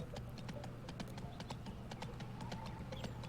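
Horse hooves clip-clopping quickly and evenly in the video game Go Vacation, a steady run of light taps over a low engine-like drone.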